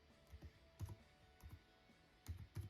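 Keystrokes on a computer keyboard, quiet irregular bursts of a few clicks each, close and alone with no talking.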